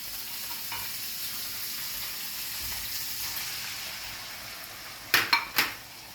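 Eggs frying in a pan for Thai shrimp fried rice, a soft continuous sizzle that ends with three sharp metallic clanks of a utensil against the pan.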